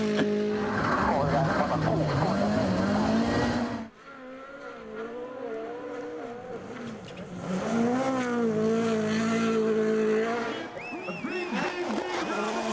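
A WRC rally car revs hard and slides through snow at Rally Sweden, its engine note rising and falling loudly as it drifts, with a voice talking over it and a spectator crowd.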